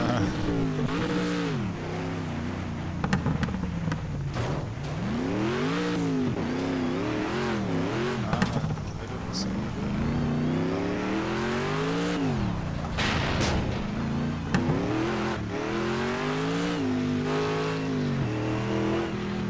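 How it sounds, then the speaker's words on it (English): Race car engines in Project CARS scream at full throttle, revving up and down through repeated gear changes across a long continuous stretch, with players talking over the game sound. "Now, full throttle."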